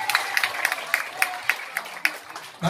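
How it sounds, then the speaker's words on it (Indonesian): A small crowd claps in a quick, uneven rhythm at an outdoor neighbourhood gathering, bright sharp hand claps repeating about every quarter second. "Tepuk tangan bagi kita semuanya."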